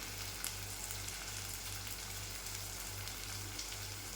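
Masala paste sizzles steadily in hot oil, a faint, even frying hiss with no talk over it.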